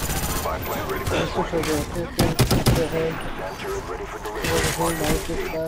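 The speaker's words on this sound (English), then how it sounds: "Right here, I see somebody shooting." Rapid gunfire in a competitive shooter video game, bursts of automatic shots and sharp cracks close by, heard under a person talking over the action.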